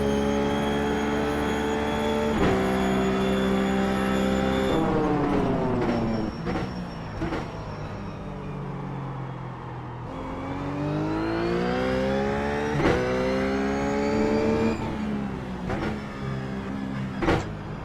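A Ruf GT3 race car engine in iRacing at Phillip Island whines up through the revs in rising sweeps, with abrupt pitch drops at gear shifts and a steady, close, loud tone.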